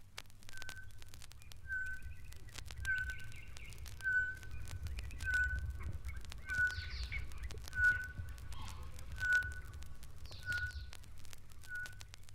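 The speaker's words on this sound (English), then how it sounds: "When the tropical Boo Boo Shrike sings duets with its mate" A tropical boubou shrike in East Africa sings clear, ringing bell-like whistles, repeated about every second at an even pace. Fainter chirps and a low background rumble run beneath the notes.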